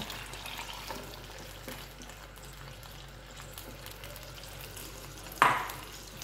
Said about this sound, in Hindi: अब इसको मैं डालूंगी अपने फ्राई चिकन के अंदर।